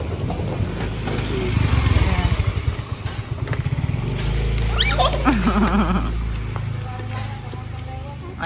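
A motorcycle engine revs and passes nearby, its throbbing putter rising then fading, with a dog whimpering and voices talking around it.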